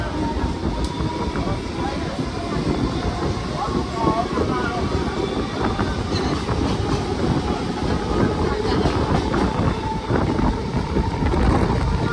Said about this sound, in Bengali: তো আমাদের ট্রেন এবার গুমাতে ঢুকছে